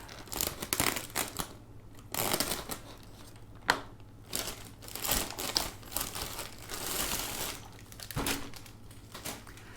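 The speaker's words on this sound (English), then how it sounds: "playing around with my hobby knife, and I'll just do some thing like, okay, we can just try to cut it" Hobby knife cutting material, a quiet run of short scraping, crinkling cuts in irregular bursts, close to the microphone with no talk.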